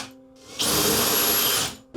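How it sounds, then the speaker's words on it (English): A power drill pre-drilling screw holes whirs steadily for about a second at close range, its high motor whine starting and stopping abruptly against quiet surroundings. "I just like to pre-drill them."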